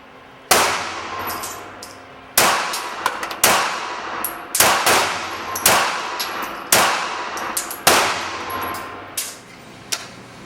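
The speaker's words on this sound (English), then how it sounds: "at least the 5 rounds that I just shot managed to get through the weapon without misfeeding or misfeeding" Five gunshots from a Beretta Pico pistol, sharp loud cracks spaced about two seconds apart, each with a short ringing decay.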